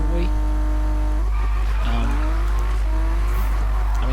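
Toyota Supra sliding sideways in Need for Speed 2015, tyres squealing over a steady loud engine drone with shifting revs throughout.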